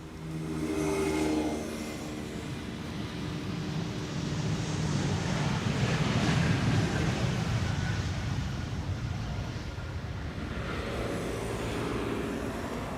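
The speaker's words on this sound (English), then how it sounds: "Two mopeds passing by" Two mopeds pass by outdoors near Amsterdam Schiphol Airport, their buzzing engines swelling loudly and steadily through the middle before easing off, with a broad roar of traffic and wind around them.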